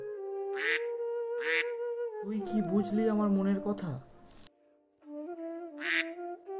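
Several sharp duck quacks sound close by, with a person speaking briefly between them before more quacks follow.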